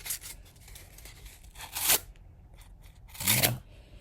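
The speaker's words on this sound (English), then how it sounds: "it's shredding that piece of cardboard up like nobody's business" A Civivi Triptych knife blade slices through cardboard in repeated close strokes, rasping, tearing cuts with two louder bursts between softer scrapes and no voices.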